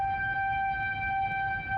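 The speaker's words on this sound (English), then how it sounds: "a siren warns of what residents can't see" A tornado warning siren wails in Fultondale, Alabama, a steady sustained tone holding at an even, loud level over low background rumble.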